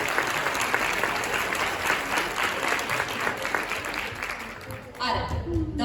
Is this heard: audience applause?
yes